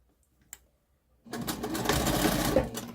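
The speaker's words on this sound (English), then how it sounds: "I'm going to go back into a 3/8 inch seam allowance" A sewing machine stitches the lining seam of a zipper pouch at a 3/8 inch seam allowance. After a quiet start with one small tap, it starts up and runs steadily and close by until the end.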